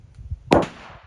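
A 9mm pistol loaded with 147 grain Speer bullets over 3.3 grains of Titegroup fires a single sharp, loud shot with a short echoing tail outdoors.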